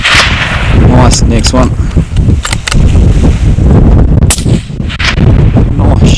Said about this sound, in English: Nice shooting, mate. Well done.